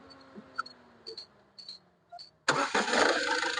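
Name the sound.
Ford EcoSport 2016 engine self-starting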